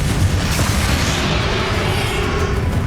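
A Confringo fire spell in Hogwarts Legacy bursts into a loud, sustained, roaring explosion that fills the whole moment, with no voices.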